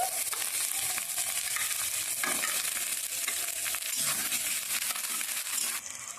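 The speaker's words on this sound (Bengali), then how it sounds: "এখন আমি টমেটো কুচি দিচ্ছি" Chopped tomato sizzles loudly in a pan of hot oil for palak paneer, with continuous bright frying hiss and scraping stirring strokes throughout.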